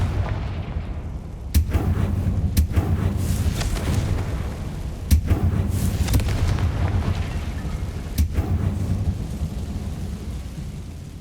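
Confringo fire blast spells in the video game Hogwarts Legacy, sharp booming bursts recurring every second or few seconds over a dense, rumbling battle backdrop, loud and close.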